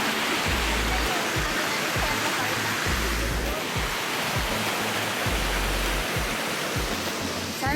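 Tukad Cepung waterfall in Bali roars as a dense, steady rush of falling water, close and loud, with low thumps of wind or handling noise underneath.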